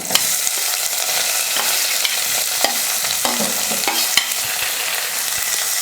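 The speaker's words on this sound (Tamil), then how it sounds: "பாருங்கள், வெங்காயம் எல்லாம் நல்லா வதங்கிடுச்சு." Onions with green chillies and curry leaves sizzle steadily in a hot pan, with occasional scraping and stirring clicks from a spoon against the metal.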